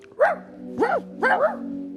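A dog barks three times in short, evenly spaced bursts over a steady low electrical hum, fairly close and moderately loud.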